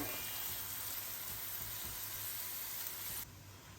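Mushrooms with garlic, salt and black pepper sizzle steadily in a pan while being stirred, a close, even frying hiss that cuts off abruptly near the end.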